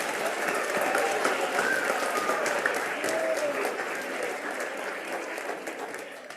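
An awards ceremony audience gives a sustained round of applause, dense clapping from a large crowd that fills the whole stretch and slowly eases off, with no talk over it.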